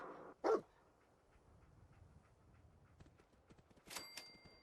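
Dogmeat, the canine companion in a post-apocalyptic video game, gives a single short bark near the start, followed by soft padding and faint game ambience, with a brighter burst near the end.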